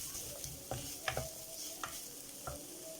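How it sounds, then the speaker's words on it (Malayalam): A spiced vegetable filling with salt and spice powders is sautéed in a pan for vegetable bread rolls: a spatula scrapes and clinks against the pan several times in an irregular rhythm over a faint, steady sizzle, close and fairly quiet. "വഴറ്റി കൊടുക്കാം"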